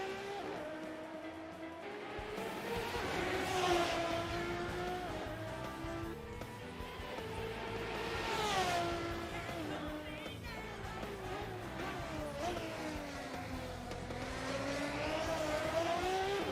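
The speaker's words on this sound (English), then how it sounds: "Car also just sounds pretty good." A race car engine in Assetto Corsa revs and shifts continuously through gears, pitch climbing and dropping over several acceleration runs, heard close and alone with occasional faint tire noise.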